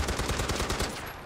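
Gunfire in Far Cry 4, a rapid automatic burst of closely spaced shots that rattles loudly for about a second, then trails off.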